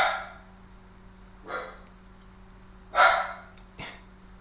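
A dog barks four times in short, separate bursts spaced over a few seconds, moderately close, with quiet background between barks.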